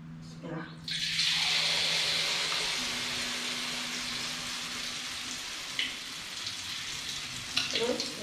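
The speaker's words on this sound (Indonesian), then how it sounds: "Ya, kayaknya udah panas, mulai menggoreng." Steady hissing sizzle of shrimp fritters frying in hot oil, starting abruptly after a brief pause and continuing loudly, with a few faint clinks and a low hum beneath.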